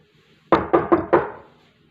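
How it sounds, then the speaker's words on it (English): Four firm knocks strike a wooden door in quick succession, close and sharp against near silence, each thud dying away fast. "just in time as Lily's knock came at the door"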